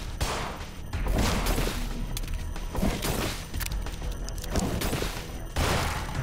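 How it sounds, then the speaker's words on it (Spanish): Enemy gunfire in the horror video game In Sound Mind, a dense, loud barrage of rapid shots and booming impacts arriving in repeated bursts throughout. "Me estáis disparando un poco tramposamente"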